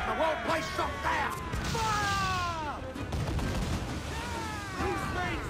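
Ship cannons firing in the pirate game Assassin's Creed IV Black Flag, a rumbling volley of heavy booms amid crashing battle noise, with shouting voices and warbling tones over the top.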